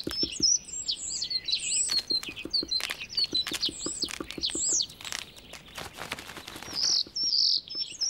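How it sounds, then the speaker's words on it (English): Starling calling stridently for a mate in a spring orchard, a rapid run of sharp, whistled chirps and rattling notes repeated close by across the whole stretch, with other bird calls mixed in. "The starling sets up a strident call for a partner"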